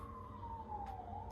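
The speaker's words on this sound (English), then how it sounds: "I'm going to wait till the siren goes past." A siren from a passing emergency vehicle on a New York street, its steady wail gliding slowly downward in pitch over constant traffic rumble, fairly loud and continuous throughout.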